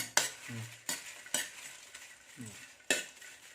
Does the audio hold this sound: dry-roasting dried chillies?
yes